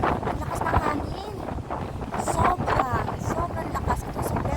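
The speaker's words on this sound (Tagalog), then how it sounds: "Ang lakas ng hangin." Strong wind buffets the microphone in loud gusts by the sea, with voices talking faintly underneath.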